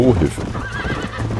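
A horse in the video game Red Dead Redemption whinnies loudly up close while hooves clop beneath, with a man exclaiming over it.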